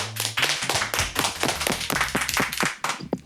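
A small audience applauding after an interview with a band, uneven individual claps close by with a low hum underneath.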